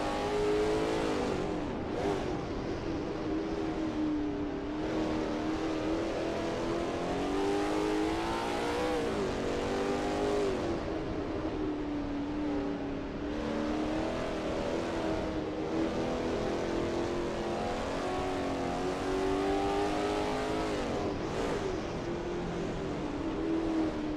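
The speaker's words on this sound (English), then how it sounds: "Bjorn Hemmen is expertly commanding that car through Sunset Bend." A Lola T70 MkII Spyder race car laps the Kyalami circuit in a racing video game, its engine note droning loudly and continuously, rising and falling through repeated gear shifts and revs with no speech.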